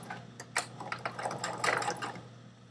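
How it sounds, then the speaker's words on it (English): Sewing machine running a double-needle topstitch on stretch knit fabric, a close, moderately quiet rapid mechanical ticking and whirring that speeds up briefly and continues for a few seconds without talk. "I hold the threads at the back for the first few stitches."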